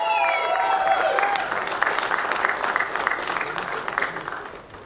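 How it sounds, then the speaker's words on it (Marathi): Steady applause from a crowd at a film teaser launch event, many hands clapping continuously throughout, fairly loud and close, with a few whistles or voices at the start. "जोरदार टाळ्या झाल्या पाहिजेत"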